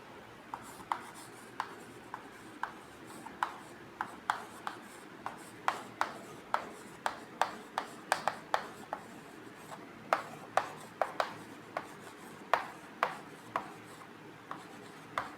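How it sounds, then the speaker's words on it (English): Chalk writing on a classroom board: a long run of dry, rhythmic taps and scratchy strokes, close and fairly quiet, each stroke a short clicking scrape with brief pauses between letters, and no speech. "So here I want to write the definition."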